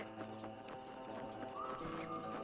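Horse hooves clip-clop in a steady trotting rhythm within the western game Red Dead Redemption, moderately loud over a dense bed of ambient game sound and music.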